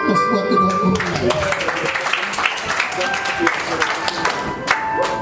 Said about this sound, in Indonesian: Kita berikan aplaus buat kedua mempelai